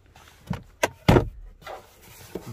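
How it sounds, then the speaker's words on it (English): Electric front windows on a Nissan Micra 1.0 IG-T Acenta Limited Edition moving inside the car, heard as a few short close motor whirs and clunks separated by quiet pauses. "Electric front windows,"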